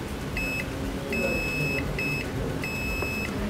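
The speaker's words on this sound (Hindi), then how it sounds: "आप मल्टीमीटर को बीप साउंड पर सेट करोगे और यहाँ पर लगाओगे" Multimeter in continuity mode beeping as its probes touch MOSFET pins on a laptop motherboard: four steady tone beeps of varying length over a constant background hum.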